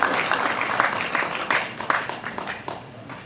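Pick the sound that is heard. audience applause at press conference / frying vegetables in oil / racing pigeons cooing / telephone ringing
audience applause at press conference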